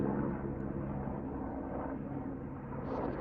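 A low, steady engine drone of a firefighting helicopter overhead, fairly faint and continuous, with no talking.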